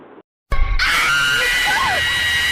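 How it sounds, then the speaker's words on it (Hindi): A woman's shrill, sustained scream cuts in abruptly after a moment of silence and holds loud and wavering, voiced as a ghost's cry against a dense dramatic backdrop. "भूतनी चीख उठी"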